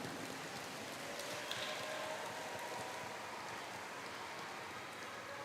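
Steady rain falling on a surface, a dense continuous patter of drops with no voices.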